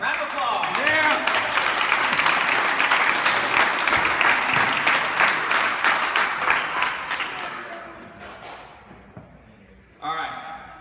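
Loud, sustained audience applause with cheering voices at a CrossFit open awards show, honoring award winners; dense clapping fills most of the stretch, fading toward the end before a brief burst of talk returns.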